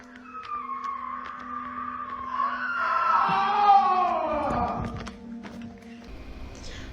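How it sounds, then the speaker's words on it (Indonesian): A loud human scream rings inside a cave, rising and then sliding downward over several seconds, with faint echo and scattered clicks around it. "ia mendengar suara teriakan yang cukup keras di dalam gua tersebut"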